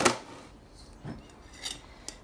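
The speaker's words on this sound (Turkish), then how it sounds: "Ciğerimizi süzgece döküyoruz." Chopped beef liver tipped into a metal strainer for Albanian-style fried liver, giving a sharp clatter at the start and then a few lighter metallic taps and scrapes spread over a couple of seconds in a quiet kitchen.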